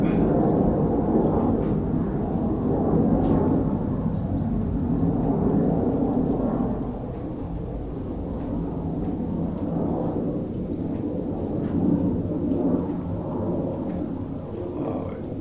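Steady, dense rain roars close by with no letup, a heavy wash of noise filling the whole stretch.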